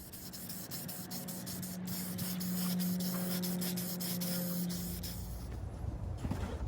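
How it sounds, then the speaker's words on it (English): A steady, continuous hiss of spray paint onto a radiator cover for a 1966 Buick Wildcat runs for several seconds with a low hum underneath, close by, then stops near the end. "Get this wiped down, spray it up."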